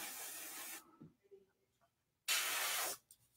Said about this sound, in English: I prefer to work with an airbrush for most of my work